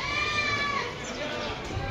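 A white male goat bleats with a wavering, nasal cry near the start, close by, while background chatter and outdoor noise continue at the Deonar goat market.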